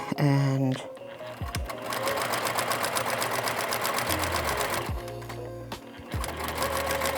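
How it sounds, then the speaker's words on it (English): A sewing machine stitches quilt fabric along a diagonal chalk line, with a loud, fast, steady mechanical whirr that stops and restarts briefly, and a voice speaking over it at times. "I'm going to sew a 1/4 inch or a scant 1/4 inch either side of this chalk line, so across the diagonal"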